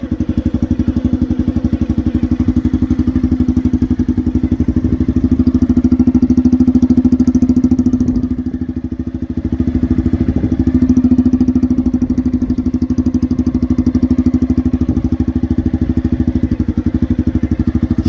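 A motorcycle engine fitted with a homemade PVC exhaust runs steadily at a low idle, a close, continuous droning hum with a slight dip midway and no talk.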